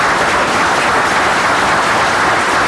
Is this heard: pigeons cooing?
no